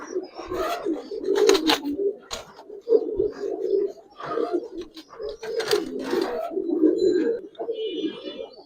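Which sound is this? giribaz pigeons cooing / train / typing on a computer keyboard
giribaz pigeons cooing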